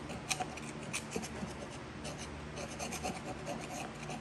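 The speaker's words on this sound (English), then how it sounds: "first clean them up because they're filthy. Strip some of this grease off." Grease being scraped and rubbed off dirty Babbitt bearing caps from a 1971 gristmill, a steady close rasping and scratching with repeated strokes throughout.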